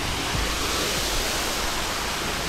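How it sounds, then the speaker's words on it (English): Bukol Falls waterfall in Basilan, Philippines, a steady broad rushing roar of falling water, constant and close, with no voices. "Bukol Falls, you're the best here in Basilan."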